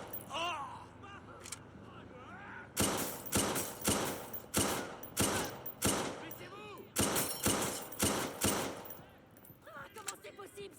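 Rapid bursts of gunfire ring out in the video game Watch Dogs 2, a run of loud, repeated shots clustered in volleys, with a player's voice heard faintly early on.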